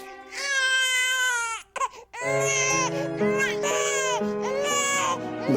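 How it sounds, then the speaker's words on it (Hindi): A baby wails loudly and close by in long, high sobbing cries, broken by a short pause near the middle before the crying resumes just as strongly. "बच्चे के रोने की आवाज कहाँ से आ रही है?"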